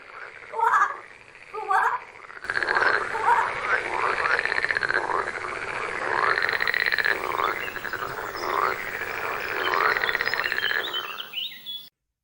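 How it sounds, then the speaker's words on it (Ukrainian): Frogs croak in repeated rhythmic bursts, loud and close, forming a steady chorus with some chirping calls mixed in and no talking. "Коли жабка квакає, вона кличе інших жабок."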